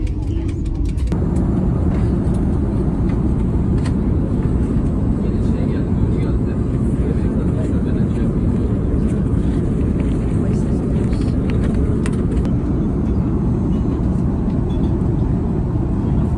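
Steady, loud airliner cabin drone on an 11-hour flight to Cape Town, a dense low roar filling the whole stretch with faint background voices beneath it.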